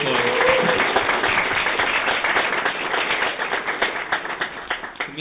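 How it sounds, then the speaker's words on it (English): Audience applause at an ESN Croatia event in Zadar, dense continuous clapping from a crowd that stays loud throughout, thinning slightly toward the end. "So, big applause."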